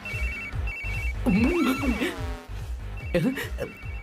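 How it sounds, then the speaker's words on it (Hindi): A phone rings in short repeated electronic bursts, broken up by a person speaking over it before the ringing returns. "इस वक्त दीदी का फोन।"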